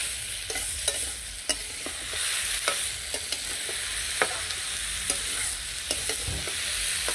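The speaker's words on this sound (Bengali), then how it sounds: "এর মধ্যে এখন এগুলো ভালো করে কষিয়ে তারপর ঝোল দিয়ে দেবো।" Vegetables for a village-style curry sizzle steadily in a pan, with soft frying hiss throughout and repeated stirring scrapes and clicks of a spatula at an irregular pace, close up and fairly quiet, with no talking.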